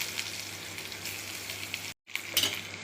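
Asafoetida, mustard seeds, fenugreek and urad dal fry in hot oil with a steady, close hiss and crackle, briefly cut off by a short silence before the sizzling resumes.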